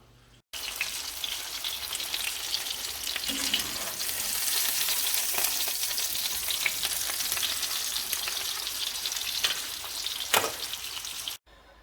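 Chicken pieces frying in a pan for chicken parmesan, a continuous close, bright sizzle with crackling spits and a few sharper pops, steady from start to finish with no talking.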